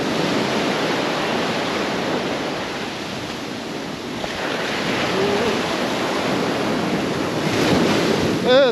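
Ocean surf rolls and washes continuously on a beach at Sagres or Faro, Portugal, with steady wind buffeting the microphone, loud and close throughout.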